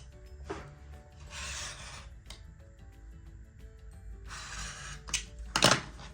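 Scissors or a cutter working through fabric pieces for a patchwork quilt, with a few short rasping strokes, close and quiet, separated by gaps of light handling.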